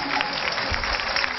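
Audience applause at a holistic music festival, a continuous wash of many hands clapping that sounds fairly distant and muffled, steady for over a second.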